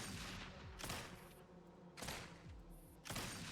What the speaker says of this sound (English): The sounds of gunfire fill the air outside the train.